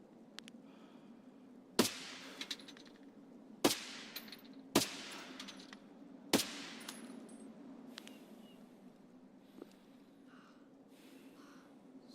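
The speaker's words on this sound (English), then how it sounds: "So who was shooting up here like that?" Gunfire in the video game Escape from Tarkov: four sharp, distant-sounding shots spaced a second or two apart, each trailing off into a quiet ambient hum, with no talk.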